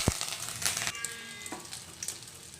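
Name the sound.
mustard seeds and curry leaves sizzling in hot oil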